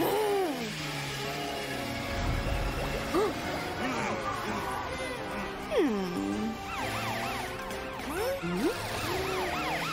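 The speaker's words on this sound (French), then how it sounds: "Utilisez vos sirènes pour que les voitures puissent vous laisser passer." An emergency truck siren in an animated children's cartoon wails with rising and falling sweeps that repeat across the clip, moderately loud over a busy, dense backdrop of other sounds.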